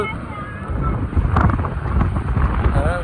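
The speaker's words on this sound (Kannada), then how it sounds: "ಗಾಳಿ ಎಷ್ಟು" Strong wind buffeting an outdoor microphone, a loud continuous roar and rumble with gusts, no clear voices.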